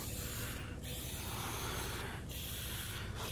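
Penrite P26 coating sprayed onto 40-year-old Toyota BJ40 parts after blasting, a steady close hiss that runs without a break, faint in level with no voices.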